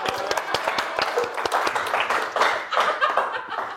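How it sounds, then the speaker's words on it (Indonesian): An audience claps in a brisk, scattered burst, with many hands slapping at once amid faint chuckles and murmuring in the background. "Tepuk tangan buat Empok Ivan."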